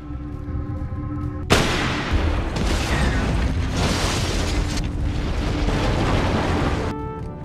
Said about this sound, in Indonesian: sniper itu ternyata sudah memasang jebakan yang saat itu mengenai Cole